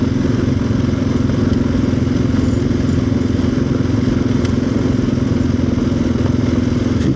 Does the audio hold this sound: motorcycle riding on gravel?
yes